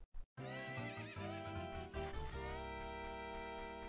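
A horse in The Legend of Zelda: Ocarina of Time gives a long, loud whinny after two brief clicks, layered over steady game music and sustained tones.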